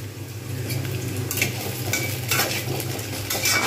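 Potatoes and onions fry together in a pan with a steady sizzle, while a utensil stirs and scrapes at intervals, close and moderately loud with no talking.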